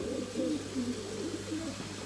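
Soft, repeated pigeon-like cooing of birds inside a box, low and steady, with a continuous background hum and no talking.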